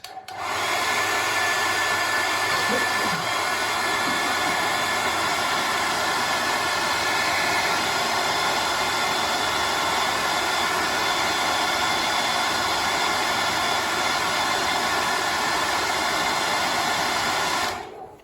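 A hair dryer blows with a loud, steady whooshing roar from start to finish while drying decals on painted miniatures, switching off at the very end.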